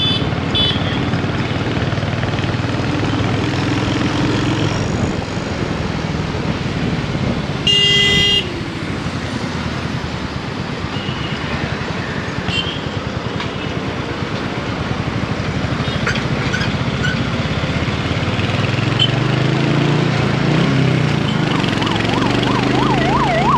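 A Royal Enfield Hunter 350 motorcycle engine runs steadily and loudly on the road throughout, with traffic noise and a brief horn-like tone partway through.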